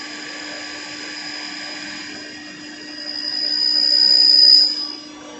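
A drill runs in reverse, backing a tap out of a hole drilled in a driveshaft: a steady motor whine close by that swells briefly in pitch and loudness before settling back.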